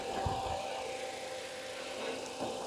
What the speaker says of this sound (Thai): ตอนนี้สตาร์ทเครื่องยนต์อยู่นะคะ